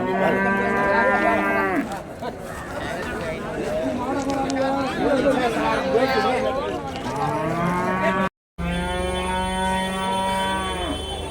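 Jersey cattle at the Uthangarai cattle market give repeated loud, drawn-out moos, several calls in a row over a busy crowd murmur and people talking nearby, with a brief dropout near the end.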